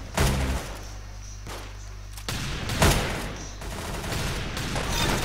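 Pistol shots in the Roblox shooter Arsenal, several sharp bursts spaced a second or so apart, loud and close over constant game background noise.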